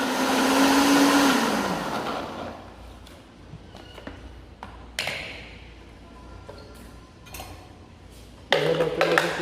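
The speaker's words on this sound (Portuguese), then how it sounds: "Sempre que for usar o liquidificador e for misturar aqui no copo" A blender whirs loudly for about two seconds, winds down, then clicks and knocks follow before a short burst of motor noise returns.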